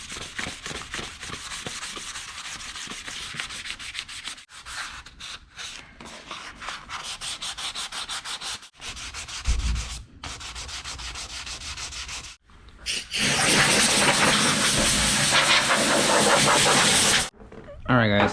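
Jeep Wrangler hood hinges hand sanded with a 320 grit soft pad: rapid rhythmic scratchy strokes in bursts with brief pauses, ending in a louder sustained stretch of rubbing.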